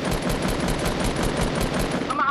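Rapid, continuous gunfire in a Fortnite match, dense and loud throughout the short burst of shots.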